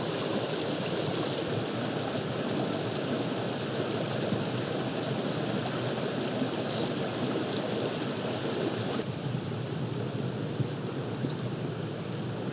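Creek water flows in a steady, even rush close by, a continuous gentle wash with a brief faint click partway through.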